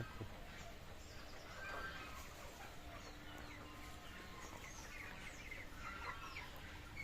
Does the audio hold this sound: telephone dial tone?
no